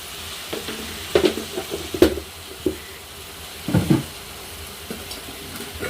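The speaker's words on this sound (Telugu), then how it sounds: "ఇలా ఒక్క రెండు నిమిషాల దాకా పెద్ద మంట మీద పెట్టుకుని నేను ఫ్రై చేసుకుంటాను" Masala with chili powder fries in a pan over a high flame, giving a soft, steady sizzle with occasional stirring scrapes and clinks, moderately close and without voices.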